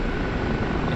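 Kiowa helicopter in a flight simulator game, a loud, steady low rumble of engine and rotor droning continuously without any voice.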